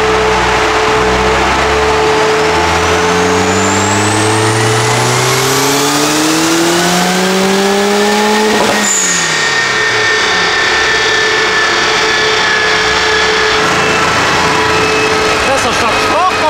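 A Peugeot 306 fitted with a 2.0 litre turbocharged engine revs hard through rising sweeps, loud and close, then drops off sharply before idling and climbing again. Voices are faintly audible.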